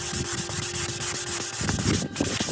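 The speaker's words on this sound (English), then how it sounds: "I love sanding." Steady, close-up rubbing of sandpaper in a boat cockpit during a refit, a continuous rough scraping with rhythmic back-and-forth strokes and no voices.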